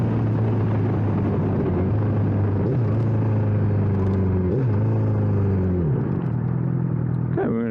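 A 2009 Honda CBR1000RR Fireblade motorcycle roars close and loud under steady rumble, its engine pitch climbing and dropping through several rev build-ups and gear changes while riding, with no talk.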